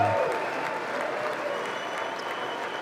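Applause from members of Congress at a State of the Union address, a steady wash of many hands clapping in a large chamber, moderately loud and sustained, with faint talk underneath.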